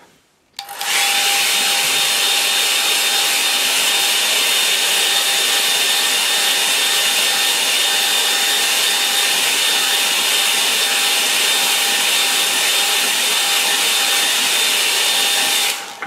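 A hair dryer blows steadily on a freshly painted picture, a loud, unbroken whooshing roar with a faint whine that starts abruptly and runs for about fifteen seconds, no voices over it.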